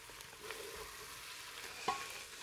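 Fresh galangal, ginger, lemongrass and chilies sizzling steadily in a pan for Indonesian lamb or goat gulai, with a few utensil scrapes and clinks as they are stirred, no voices.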